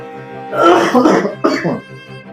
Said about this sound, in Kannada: ಯಾಕ್ರಿ ಇಷ್ಟೊಂದು ಕೆಮ್ತಾ ಇದ್ದೀರಾ